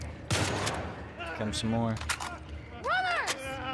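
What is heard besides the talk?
gunfire in the video game The Last of Us Part II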